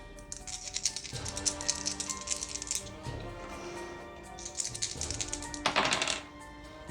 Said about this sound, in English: So he is able to roll his attack dice.